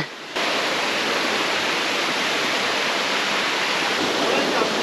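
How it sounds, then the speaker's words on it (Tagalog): Water rushing steadily over Anyap Falls in Tanay, Rizal, a loud broad continuous roar of a nearby waterfall that begins after a brief quiet moment and holds unbroken. "Rinig nyo na yung mga agos ng tubig."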